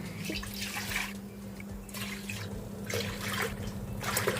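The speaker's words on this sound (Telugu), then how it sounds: "ఈ గిన్నెలో ఇప్పుడు మనం ఫైవ్ గ్లాసెస్ వాటర్ యాడ్ చేసుకుందాం" Water poured glass by glass into a large cooking vessel while making sago vadiyalu, giving several bursts of splashing pour separated by short pauses, fairly close and steady, with no talk over it.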